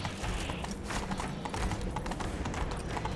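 Roach, Geralt's horse in The Witcher 3, gallops with rapid rhythmic hoofbeats, loud and close over dense game ambience.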